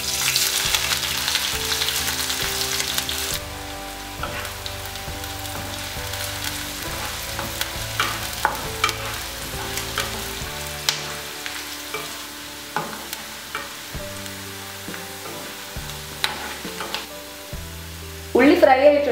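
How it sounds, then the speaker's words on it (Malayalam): Sliced onions sizzling and frying in hot oil for a Kerala fish biryani garnish, a continuous crackling hiss with occasional stirring clatter, louder bursts near the end, no talk. "നമുക്കിനി ഇതിലേക്ക് ഗാർണിഷിങ്ങിനായിട്ട് വെച്ചിരിക്കുന്ന സവാളയും കൂടി ഇട്ട് ഫ്രൈ ചെയ്തെടുക്കാം."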